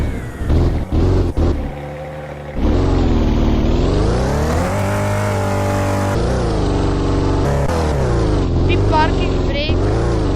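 Car engine in a Roblox video game revving and driving, a steady synthetic drone that swells and dips in pitch, with a person talking over it and a few clicks at the start.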